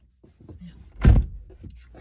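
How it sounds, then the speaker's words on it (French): A car door thumps shut once, a loud single impact in the middle of a short, otherwise quiet stretch with faint rustling before and after. "J'avais oublié de fermer la porte"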